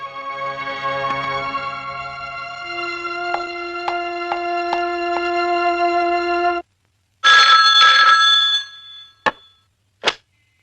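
A telephone rings at a police station, a steady electronic ring with repeated pulsing tones, loud and close, broken by a pause before a few more bursts of ringing.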